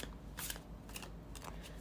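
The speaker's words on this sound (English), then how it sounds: "Let's now shuffle with intention." A tarot card deck is shuffled in quick, soft riffling bursts, several short papery flurries spaced across a quiet background with no voices.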